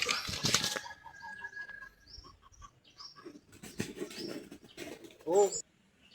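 A caught red junglefowl flaps its wings in loud, close bursts as it is put into a cage, with rustling, bird calls and soft handling noises, and a person speaking quietly nearby.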